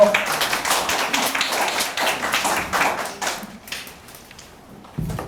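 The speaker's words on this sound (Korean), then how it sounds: "박수 부탁드리겠습니다" A crowd claps in a burst of applause at an apartment remodeling committee meeting in Daejeon, South Korea, fading out toward the end, followed by a brief thump.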